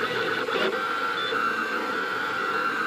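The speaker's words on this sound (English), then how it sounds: "Seems to be printing pretty accurately." A Rostock Deltabot 3D printer lays down ABS on a first print with a continuous whirring hum and a steady high motor whine, close up and unbroken.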